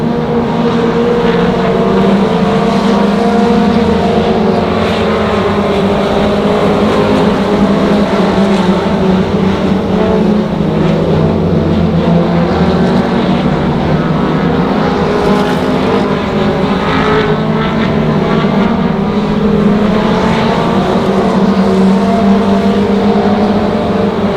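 Race cars roar around the Monarch Motor Speedway track, a loud continuous engine drone from several cars running close together, steady throughout with no clear pass-bys.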